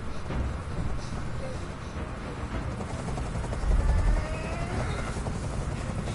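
Helicopter hovering overhead during a rooftop standoff in Detroit: Become Human, a continuous low rotor rumble and whine holding steady throughout, fairly loud and unbroken by talk.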